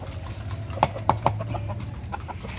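Chickens cluck in a few short, sharp bursts over a low background hum.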